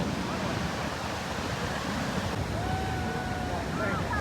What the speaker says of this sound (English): Anybody in the water? Oh, just total white water.